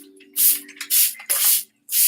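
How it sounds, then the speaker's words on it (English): A hand-pumped spray bottle mists a houseplant indoors in three loud, close hissing bursts of spray, separated by short pauses, over a faint low hum. "spraying your plants like this, is really good for them"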